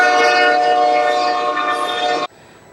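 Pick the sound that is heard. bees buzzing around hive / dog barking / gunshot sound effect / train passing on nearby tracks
train passing on nearby tracks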